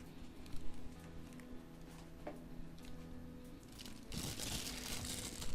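Plastic packaging crinkles and rustles close by as it is pulled off a Motospeed K87S mechanical keyboard during unboxing, soft handling at first, then a louder, sustained crinkle toward the end.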